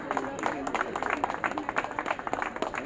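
Audience at a Tusu festival gathering at Ram Lakhan College, Ranchi, clapping steadily to welcome a guest, a dense continuous patter of many hands with some crowd noise.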